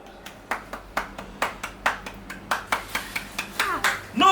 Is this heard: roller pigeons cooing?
no